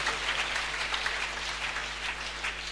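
A church congregation claps and cheers for Jesus Christ at a morning revival service, steady dense applause that holds at an even level from start to finish.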